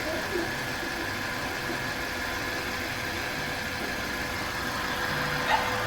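A 2007 Kia Sportage engine idles with one cylinder misfiring after a wash, giving a steady, close mechanical hum with constant level and a small bump near the end, no talking.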